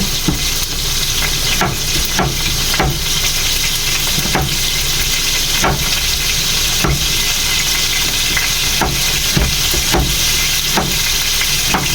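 Garlic sizzling in a hot pan for a home-cooked lunch, a constant close frying hiss broken by repeated scraping taps of a utensil stirring, with no voices.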